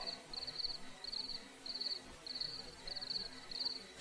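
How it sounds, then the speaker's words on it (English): Bugs chirping in trees with wind, a regular series of bright, pulsing cricket-like trills repeating about every half second over a soft, steady rustle of wind. "It's just the wind blowing through the corpse trees and the sound of the bugs."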